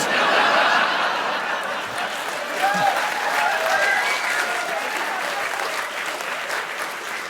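A crowd applauds steadily, the clapping dense and sustained, with scattered chuckles and laughter mixed in.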